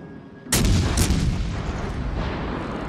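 Battleship USS Georgia's 18-inch main guns firing in the naval game World of Warships Legends, a sudden loud booming salvo with a second blast just after, followed by a long rumbling roar that slowly fades.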